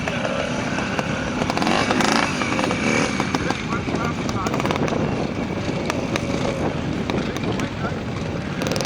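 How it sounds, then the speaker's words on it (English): A Drayton Bantam trials motorcycle rides a section on the Clubman route, its engine a steady close buzz throughout with some crowd noise and wind around it. "This is Peter Cottrell, Drayton Bantam, on the Clubman route."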